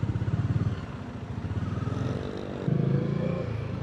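A sports motorcycle rides through city traffic on a BGC motorcycle lane, its engine a steady loud drone with throttle surges and a rise near the end.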